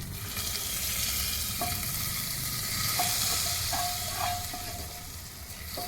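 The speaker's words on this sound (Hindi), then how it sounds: "देखिए अब हम तड़का लगाते हैं इसमें" Steady, loud sizzling of spices, including Kashmiri chili, dropped into hot oil to temper dalma, a continuous crackling hiss that fills the clip with no voices.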